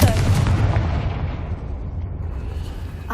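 A Confringo blast spell explodes in the video game Hogwarts Legacy: a loud, booming burst with a heavy low rumble that slowly fades and thins over about three seconds.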